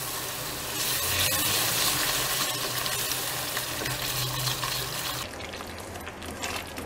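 Vegetable stock goes into a pan of frying masala, making a loud, continuous sizzle with watery bubbling and stirring. The sound drops in level near the end.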